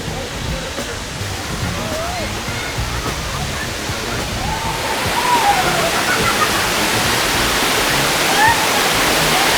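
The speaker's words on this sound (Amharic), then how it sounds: "አሁን ቀበና ፏፏቴ ሰው ሰራሽ ፏፏቴ በቃ አያልቅም። ዝም ብሎ የሚፈሰው" Kebena artificial waterfall pours steadily, a broad continuous rush of falling water that swells louder partway through.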